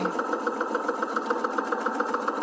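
A sewing machine stitches fabric for bloomers. The close, steady motor hum carries a fast, even pulsing of the needle that runs without a break.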